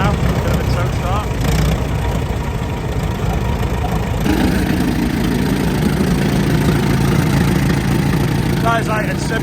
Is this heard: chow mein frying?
no